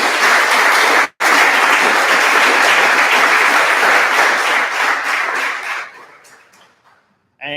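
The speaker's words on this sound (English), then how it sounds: "How about a round of applause?" A round of applause at a cricket club junior awards night, loud close clapping from a crowded room that holds steady for several seconds, briefly cuts out early, then fades away to near silence.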